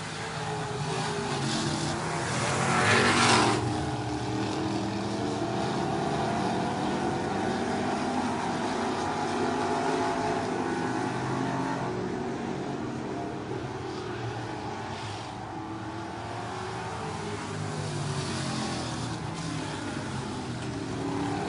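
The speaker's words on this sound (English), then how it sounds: "Green flag, the 11 of Watson, but you got a new guy on the inside." Race cars running under green flag at 411 Motor Speedway, a continuous roar of engines heard from the stands with a louder pass early, rising and falling as the field circulates, no talk.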